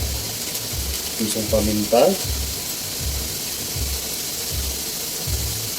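Dinuguan cooking in a pan, giving off a steady close sizzle and hiss with a faint spattering texture. Someone speaks briefly over it near the middle.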